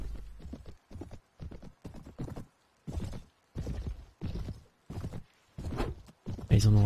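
Horse hooves clip-clopping in Mount & Blade Warband (Brytenwalda mod), a steady rhythmic run of hoofbeats in bursts, fairly close and clear, with a brief whinny-like sound near the end.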